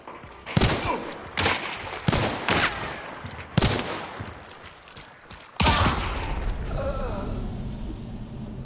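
Loud gunfire in a monster-hunting video game, a shotgun blast and a Romero 77 hand cannon: several sharp, booming shots spaced over a few seconds, the last followed by a sustained rumbling tail.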